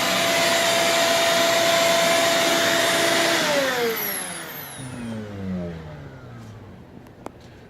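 A vacuum cleaner runs loud and close with a steady whine, then powers down, its pitch sliding lower as the motor winds down to a faint hum.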